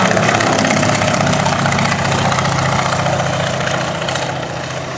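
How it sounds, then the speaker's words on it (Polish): Radial piston engine of a PZL-101A Gawron utility aircraft on a low flypast in Kraków, a loud, throbbing drone that fades slightly toward the end and is heard without speech. "Proszę posłuchać ten charakterystyczny dźwięk silnika."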